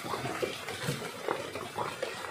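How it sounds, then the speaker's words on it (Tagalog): Water poured into a cooking pot of mung bean soup on a stove, a splashing, gurgling pour with uneven bursts over a few seconds, close by, with faint background voices. "Para dagdagan na natin ng tubig."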